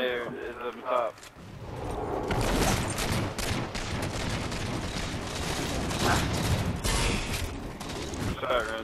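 Dense, loud Halo 4 gunfire rattles almost continuously in bursts and volleys, with booming impacts mixed in and a voice talking faintly beneath.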